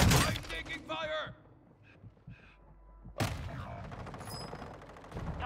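Gunfire in the video game Call of Duty: Warzone 2, a burst of loud close shots at the start and another sharp burst midway, with game voice lines and effects around them.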